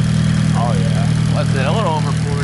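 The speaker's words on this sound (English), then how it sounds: "Injectors are loud." Nissan SR20 engine idling with loud upgraded fuel injectors, a steady low hum with rapid ticking throughout while people talk over it.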